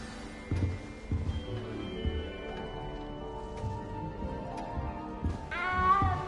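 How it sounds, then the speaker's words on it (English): A cat meows in the video game Hogwarts Legacy, a short rising meow near the end over a busy background of ambient game sound and music. "I better go make sure the first years caught that cat."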